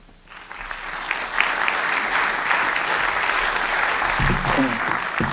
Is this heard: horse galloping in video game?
no